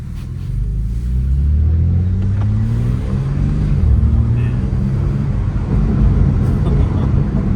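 A 2024 BMW G82 M4 Competition RWD pulls away with a deep, steady engine rumble and low drone heard from inside the cabin, loud and continuous throughout.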